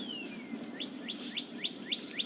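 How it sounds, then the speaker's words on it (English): A bird repeats a short, rising chirp about six times in a regular rhythm, clear against a soft hum of background noise. "Hear the birds singing in the background."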